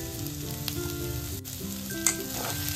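Boiled, lightly mashed potatoes are mixed in a hot pan, with a continuous loud sizzle and a couple of soft spatula scrapes and taps, heard up close and without speech.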